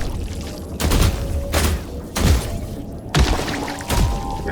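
Gunfire in The Last Caretaker sounds as four heavy, widely spaced shots, each a loud close blast with a booming tail that fades before the next.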